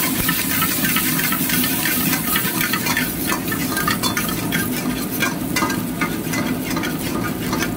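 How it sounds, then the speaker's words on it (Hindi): Chopped ginger, garlic and green chilli hit hot oil in a pan, giving a steady loud sizzle and hiss with occasional stirring scrapes, close up and without speech. "तो सबसे पहले ऑयल गरम हो जाएगा तो डाल देंगे ginger chop, garlic chop, green chilli chop"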